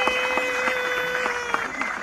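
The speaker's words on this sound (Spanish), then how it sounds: "El aplauso para ellas." Applause for two young sisters after a Christmas-day Danza de los Negritos performance, a scattered clapping crowd under a steady tonal hum, moderately loud over two seconds.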